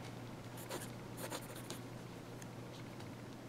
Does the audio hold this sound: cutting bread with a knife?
no